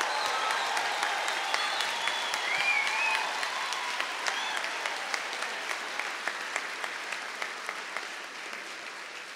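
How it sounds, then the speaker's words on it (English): Audience applause for graduates at a university summer graduation ceremony, a steady dense wash of many hands clapping that holds for several seconds and slowly tapers, with faint crowd murmur and no speech. "let's give our graduates one more round of applause"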